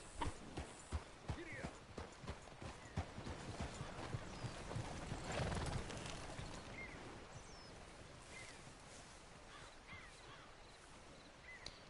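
Horse hooves clip-clop at a slow walk in Red Dead Redemption 2 through leaves and muck, a soft rhythmic series of steps with crows cawing in the distance and faint speech over it.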